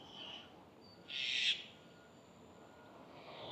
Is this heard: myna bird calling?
yes